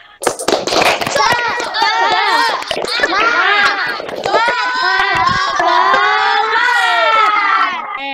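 A group of children in a classroom performs the tepuk semangat clapping chant, fast rhythmic claps mixed with loud shouted voices and cheering, continuous and close throughout.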